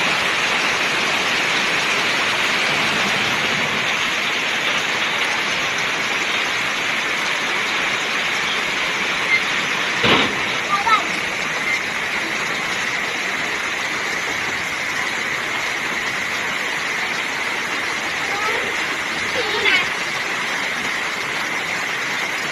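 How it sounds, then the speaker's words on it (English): Very heavy rain pours down steadily and loudly on and around a house during a storm, a dense unbroken hiss with water getting inside, broken by a couple of faint knocks near the middle and end. "Water is coming inside my house. Yeah. It's very strong rain."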